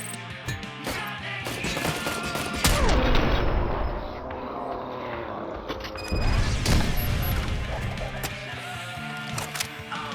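A grenade blasts inside an apartment in the video game Robocop Rogue City, with loud booming bursts near 2.6 and 6 seconds amid continuous rattling gunfire and mechanical game sounds.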